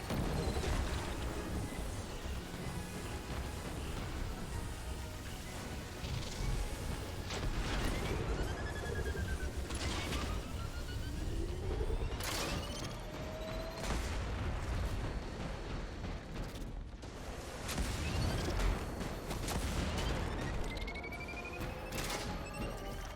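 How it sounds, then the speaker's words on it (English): Scorch Cannon heavy weapon in Destiny 2 fired at a Shank drone, a dense, continuous barrage of booming blasts and crackling bursts with whistling projectile sweeps throughout. "I'm going to go ahead and use the Scorch Cannon on the Shank."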